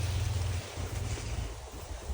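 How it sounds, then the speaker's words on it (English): Gusting wind in an outdoor vegetable garden during a potato harvest before a freeze, a loud, continuous rumbling buffet of air hitting the microphone with low surges, no voices heard. "the wind is coming"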